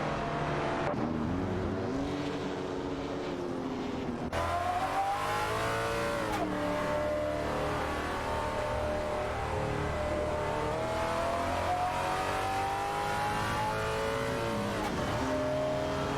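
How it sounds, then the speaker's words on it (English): Race cars in a video racing game, engines revving and accelerating with rising and falling pitch as gears shift, a continuous loud motor drone throughout with a sharp change in tone partway through. "Racing car dashing your way."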